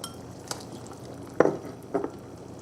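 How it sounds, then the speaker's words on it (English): Small pieces of cut tomato, about two small tomatoes, drop into a pot of tom yum soup with shrimp and salmon, making a few soft clinks and splashes against quiet background noise. "So I'm gonna add tomatoes."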